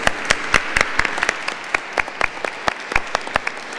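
An audience at a round-table discussion on diplomacy applauds the ambassadors, with a steady patter of many hands clapping from a room of people. Individual claps stand out sharply throughout the few seconds.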